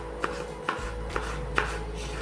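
Green chilies chopped with a knife on a board: four crisp, evenly spaced chops, close up, with no talking.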